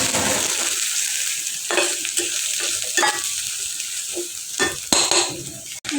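Oil sizzles and crackles steadily as turmeric and chili powder go into a frying pan, with stirring scrapes and brief louder bursts throughout, close and alone without talk.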